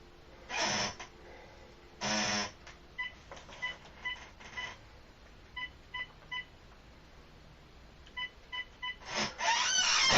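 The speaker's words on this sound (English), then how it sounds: "He's having some difficulties with dialing, as you do." Telephone keypad dialing tones sound in short paired beeps across the span, with several bursts of breathy noise and snorts in between; no speech.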